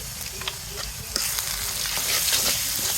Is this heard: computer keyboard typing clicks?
no